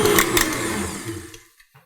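A stand mixer with a scraper paddle, KitchenAid Artisan 5 quart or Breville, whirs steadily and fairly close for over a second, then winds down and stops, leaving a couple of faint clicks.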